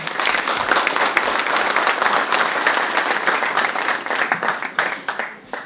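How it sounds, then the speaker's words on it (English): A roomful of guests at a Cape Town Zimbabwean excellence awards ceremony applauds warmly, a thick, continuous patter of many hands that holds steady and starts thinning toward the end. "So a round of applause, ladies and gentlemen."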